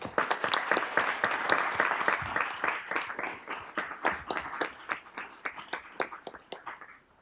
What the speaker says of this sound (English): Could you please join me in another round of applause for these wonderful employees?